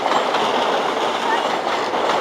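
A train passing through York station on the East Coast line, a loud, steady rumble with rhythmic wheel clatter and faint squeal, close by, with a voice speaking over it.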